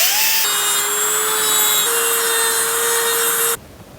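A power tool cuts two ears off a metal bike headset part on a Commencal Absolut RS dirt jump build, a loud, steady high-pitched grinding whine with shifting pitch that stops abruptly near the end.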